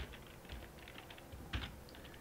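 Python code being typed on a computer keyboard, with quiet, close, irregular key clicks and a slightly heavier tap near the end, without any talking.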